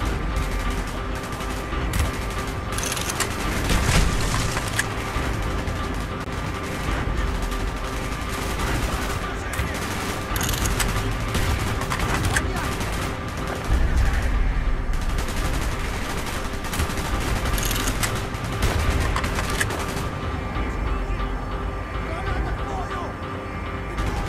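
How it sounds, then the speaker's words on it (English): Bursts of rapid gunfire crackle repeatedly over a busy, noisy background in the video game Call of Duty: Black Ops, with shots clustered in volleys throughout. "Gunfire's drawing attention."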